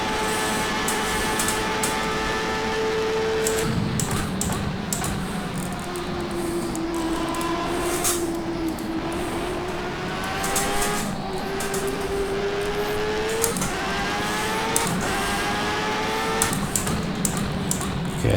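A Jordan 191 Formula One car driven by Michael Schumacher at Spa in rFactor 2, its engine held near full throttle with a steady high whine, short lifts between gear changes, and rising and falling pitch through the lap.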